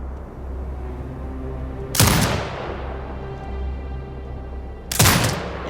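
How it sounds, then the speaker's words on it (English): Turret firing at hostiles in Sniper Ghost Warrior Contracts 2, two sharp heavy blasts a few seconds apart with decaying tails, over a steady low droning hum. "Exit binocular mode and command the turret to fire."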